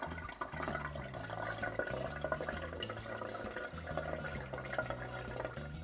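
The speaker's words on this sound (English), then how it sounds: "So just carefully pour our coffee through our coffee filter." Cold brew coffee is poured steadily through a coffee filter at home, a continuous liquid trickle and splash with a low background hum, even in level and heard alone without talk.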